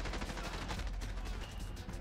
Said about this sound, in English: I shot him in the face with a shotgun